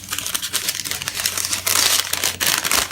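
Cut parchment paper being unfolded for a round pan, loud close crinkling and rustling in continuous bursts, crisp and papery, with no talk.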